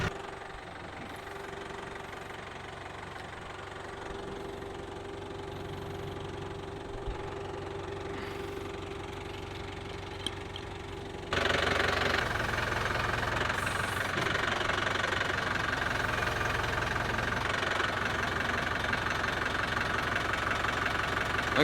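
A tractor engine idles and runs steadily while pulling a fence strainer, with a low knocking hum that jumps louder about halfway through and then holds a fuller roar; no one talks.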